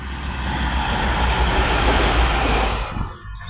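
A short train rumbles past close by near Jamnagar, India, a loud, steady roar of wheels and carriages that drops away abruptly near the end.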